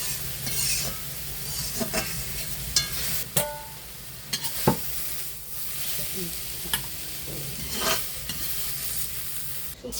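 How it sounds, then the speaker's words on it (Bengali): Dried red chilies, cumin seeds and green chilies temper in hot oil, a steady loud sizzle broken by scattered clinks and stirring scrapes. "ফোড়নে শুকনো মরিচ দিলাম জিরে দিয়ে দিলাম চারটে কাঁচা মরিচ"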